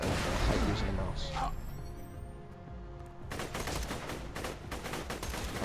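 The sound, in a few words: gunfire from guns in video game Borderlands 2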